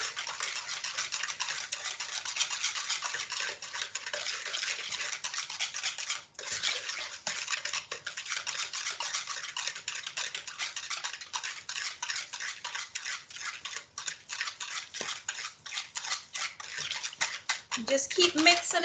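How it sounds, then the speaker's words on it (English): A spoon scrapes and taps around a bowl of brownie batter in a steady, quick rhythm, close and fairly loud, with a short pause partway through and speech occasionally heard beneath the mixing. "Just keep mixing it."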